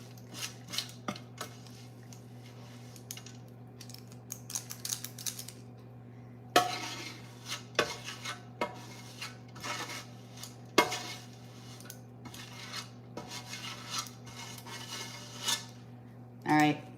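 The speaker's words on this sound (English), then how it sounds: "Like when you scoop it, like scoop it and then like press the scooper into the pan." A scooper scooping no-bake cookie mixture and pressing it into a pan, soft scrapes and clinks of metal against the pan in irregular bursts over a steady low hum, close and moderately loud.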